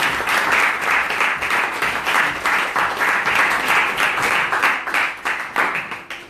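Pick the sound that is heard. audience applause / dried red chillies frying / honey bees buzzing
audience applause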